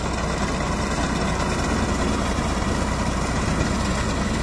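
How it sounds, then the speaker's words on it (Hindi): Tractor with a front-mounted cutting blade harvesting wheat in a field, giving a steady, loud, continuous engine drone with low rumble and no pauses or voices. "तो ट्रैक्टर जिस तरह काट रहा है ना, वो आगे ब्लेड से लगा हुआ है, तो वो काटता है।"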